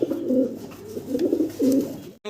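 Pigeons coo in low, throaty repeated phrases, close and clear, three rounded bursts with short pauses between them.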